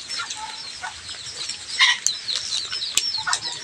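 Small chickens flap their wings in quick fluttering bursts, with scattered clucks and chirps, moderately near.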